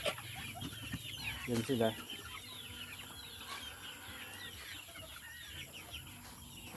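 Gamefowl chickens at a chicken farm cluck and chatter continuously at moderate distance, with a few louder close calls early on and a person talking briefly among them.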